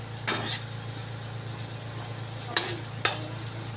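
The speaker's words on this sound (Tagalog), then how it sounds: "Golden brown nating bawang." Garlic frying golden brown in hot oil in a pan, a steady close sizzle with a few louder bursts of spattering as it is stirred.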